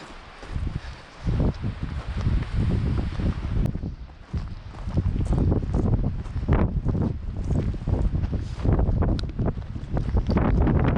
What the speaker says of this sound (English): look at that fucking wind